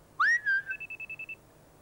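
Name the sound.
person whistling to make a whistle-finder keychain sound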